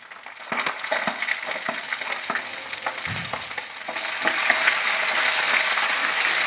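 Dried red chillies and garlic frying in hot oil, a continuous crackling sizzle with scattered pops that swells louder and denser toward the end, with no voices.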